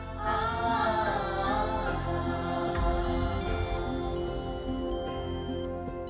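A phone ringtone sounds for an incoming call at night, a loud melodic tune with layered tones that plays on continuously with no talking over it.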